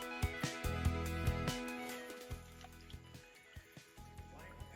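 Spring water runs out from under a huge mountain in an off-trail forest, a faint continuous trickle and burble close by, with a few soft knocks and low rumbles over it.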